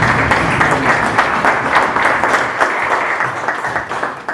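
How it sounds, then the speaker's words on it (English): Audience applause at the official launch of MwanAfrika at Faith Bible Church, a steady, dense wash of many hands clapping that holds evenly loud from start to finish with no talk over it. "I think that deserves another round of applause"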